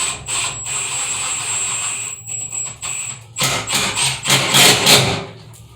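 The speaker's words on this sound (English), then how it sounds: "Screw your other anchor in." Wall anchor being screwed into a drilled hole for a towel bar install, giving a run of scraping, ratcheting twists up close, steady at first and then louder, choppier turns near the end.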